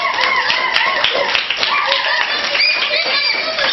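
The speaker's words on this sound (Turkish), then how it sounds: "Alkış et, alkış et." Children clapping in a Turkish classroom, quick irregular handclaps filling the room, with kids' voices and chatter mixed in over the clapping.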